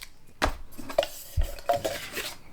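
A Jetboil titanium pot handled during unboxing gives a few light metallic clinks and taps, close by and spaced irregularly with quiet handling in between.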